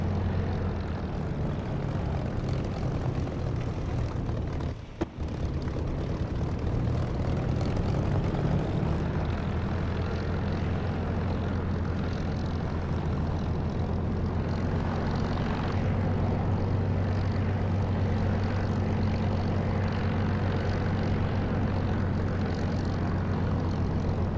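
A Spitfire's piston engine drones steadily while taxiing in the flight simulator DCS, a loud, continuous propeller rumble with a low throbbing tone, a brief dip in level, then the engine note rises slightly.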